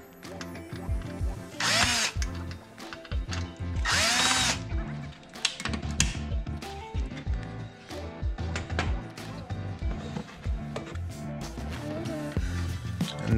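A power drill on a low setting drives screws into a board while a range-hood light is repaired, with repeated whirring bursts of the motor and brief ratcheting clicks, close and moderately loud.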